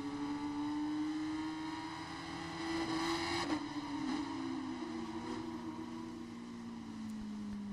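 Racing motorcycle engine in RIDE 5 on a wet Interlagos circuit in the rain, a sustained whining drone rising and falling as the bike struggles for grip, fairly faint but continuous, no voices.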